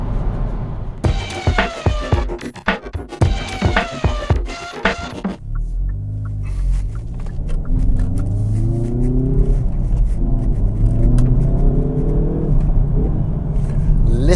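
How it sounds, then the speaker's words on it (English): Car with a four-cylinder engine accelerates, a rising throbbing engine note climbing through gears after a burst of loud clatter, with someone speaking over it near the start. "I do like the fruity sound of a 4-cylinder engine."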